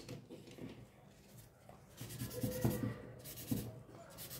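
A soft graphite pencil, 8B to 10B, scratches and rubs across paper while shading and blending a drawing, with quiet, uneven strokes that grow slightly louder toward the end.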